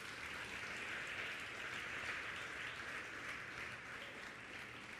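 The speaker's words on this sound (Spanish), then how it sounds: "dele un aplauso al Señor fuerte" Steady, dense applause from a church congregation fills the room for several seconds, faint and distant, holding an even level throughout.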